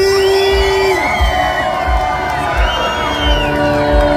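A crowd at a Halloween night gathering in Medellín cheers and claps from a distance, with whoops and shouts rising over a sustained musical tone and rhythmic low thumps.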